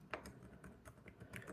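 Keys pressed on a ThinkPad X13 Gen 1 laptop keyboard with a UK layout, a quick irregular series of soft, close clicks and taps with no talking.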